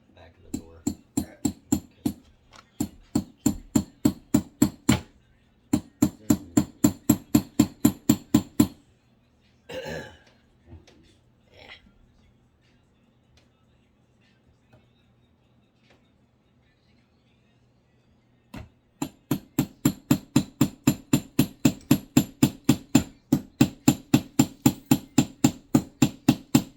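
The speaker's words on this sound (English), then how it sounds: "Using a ratchet as a hammer." Metal ratchet used as a hammer during assembly of a Walmart shelf, rapid bursts of sharp rhythmic strikes in long runs, a pause with a cough and brief throat noises in the middle, then another long steady run of blows.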